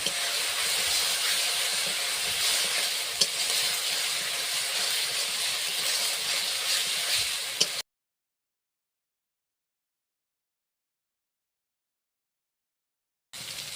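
Chilli-powder masala sizzles in a pan while being stirred for prawn malaikari, a steady loud hiss that runs for about eight seconds, cuts to silence, then briefly returns at the end.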